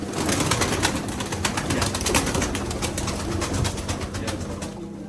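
Pigeons coo over and over at a Turkish bird market, many birds calling close by in a dense, overlapping chorus with no talk.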